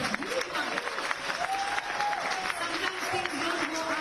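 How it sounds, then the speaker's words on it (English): Applause from an audience at a Mumbai event with cricketer Rohit Sharma, steady crowd clapping that holds for about four seconds, with faint voices mixed in. "How about a big round of applause?"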